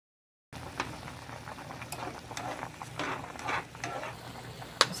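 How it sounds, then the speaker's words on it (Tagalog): Leaves tossed into a frying pan and stirred, giving a steady soft sizzle with scraping clicks from the spatula, close and moderately quiet, with no talking. "Isunod na nako ang mga dahon."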